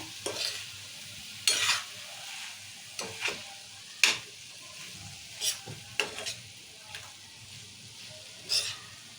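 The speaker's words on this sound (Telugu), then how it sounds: "చిక్కుడుగా వేసినాం కదా కలుపుకుందాం మంచిగా" Broad bean curry being stirred with chilli powder in hot oil, with sharp scraping strokes of a spoon at irregular intervals over a steady background sizzle, close and fairly loud.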